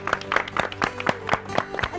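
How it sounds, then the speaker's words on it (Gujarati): Lively applause on a Gujarati cooking show, a dense run of hand claps in a quick irregular rhythm, fairly close and loud, lasting only a couple of seconds. "જોરદાર તાળીઓ થઈ"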